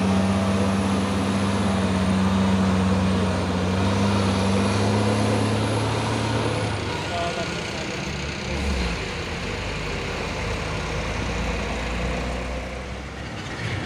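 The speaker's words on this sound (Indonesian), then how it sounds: "ini juga ada satu nih truk trailer Hino 500 membawa paku bumi" A Hino 500 trailer truck hauling ground piles labors past on a hill road, its loud diesel engine droning steadily and then easing as it moves on, with other traffic rumbling behind.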